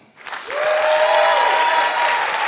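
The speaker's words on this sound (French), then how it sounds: "Faites un maximum de bruit, s'il vous plaît, pour Tom Villa." Loud audience applause at a French stand-up comedy show swells quickly and holds steady, with some cheering mixed into the clapping.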